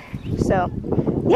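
Six-week-old puppies give tired, high whimpers and thin whines close by, a couple of rising cries, while a person talks over them.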